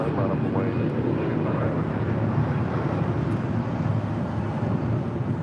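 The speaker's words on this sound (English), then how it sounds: "That was American Airlines 612 departing to Orlando on an A321." An American Airlines Airbus A321 departs Los Angeles International Airport, its engine roar a steady, dense rumble heard throughout, with broadband noise and some wind buffeting on the microphone.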